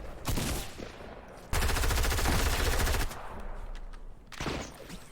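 Rapid minigun fire in a video game, a dense loud burst of continuous rattling shots lasting about a second and a half, with scattered gunfire and game noise before and after.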